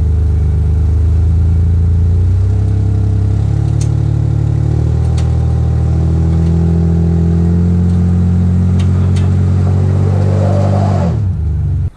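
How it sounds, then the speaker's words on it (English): A Ford Aerostar strains in park-free pull on a muddy upstate New York driveway, its engine droning and revving steadily for about eleven seconds with rising pitch as the rear tires slip, then cutting off abruptly. "Actually, the Aerostar, I think, had plenty of power to do it, but it looks like our rear tires are slipping on this muddy driveway"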